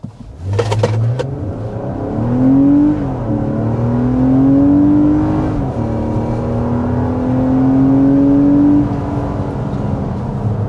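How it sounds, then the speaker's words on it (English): A 2026 Nissan Pathfinder with a naturally aspirated 3.5-liter V6 accelerating hard, a loud, close engine drone rising in pitch through several gear changes after a brief start-up rumble, with no talk. "we need to start with a hard acceleration"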